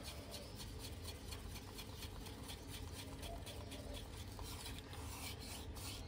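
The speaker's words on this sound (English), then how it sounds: "Mix it really well, scrape down the sides." Resin mixed with sparkle casting powder in a cup, a faint, steady raspy scraping and stirring as the sides are scraped down, close and continuous with no talk.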